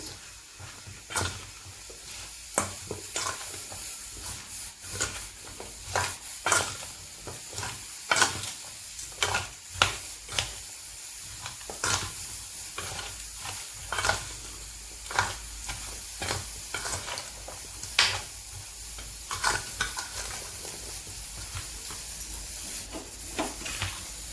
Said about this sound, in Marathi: आता आपण हे मिक्स करत आहोत